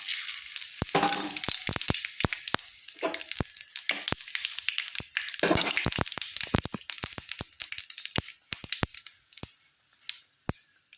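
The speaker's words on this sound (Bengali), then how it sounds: "ওই তেলেই ফোড়নে দিয়ে দেবো গোটা জিরে আর তেজপাতা।" Whole cumin seeds and bay leaves fry in hot oil, giving a close, steady sizzle broken by many sharp pops and crackles throughout, with no voices.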